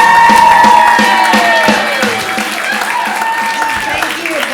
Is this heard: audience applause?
yes